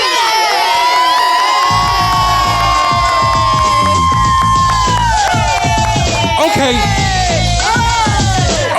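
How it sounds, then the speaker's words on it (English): A radio show audience cheers and whoops for a guest, a loud, dense crowd roar with high whoops and shouts rising over it, sustained for the whole stretch. "Give it up for Vinny"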